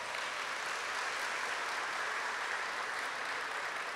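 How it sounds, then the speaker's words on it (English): Audience at a tribal State of the Tribe address applauding tribal members, a dense, steady wash of many hands clapping, evenly sustained with no talk over it. "Let's give them a round of applause."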